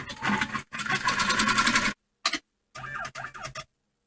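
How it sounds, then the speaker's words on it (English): An embroidery machine stitches a tack-down line securing backing to the hoop for an in-the-hoop bib, with rapid mechanical bursts that stop and restart several times, loud and close with pauses of silence between. "go ahead and start. This is going to tack the backing on."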